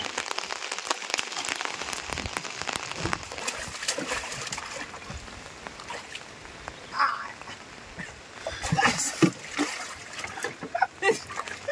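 Rainwater being bailed out of a boat on a Konkan river during heavy monsoon rain, with irregular splashing and sloshing scoops that grow louder and denser toward the end over a steady patter of rain.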